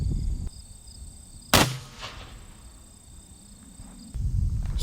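A Hatsan Piledriver .62 caliber air rifle fires one sharp, loud crack with a short decaying tail. The surroundings are otherwise quiet, with a low background hum.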